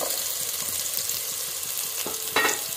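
Chopped onion dropped into hot oil in a cooking pot, a continuous bright sizzle with a few sharper crackles and a stirring scrape near the end, close and fairly loud with no talk.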